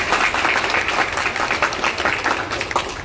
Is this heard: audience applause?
yes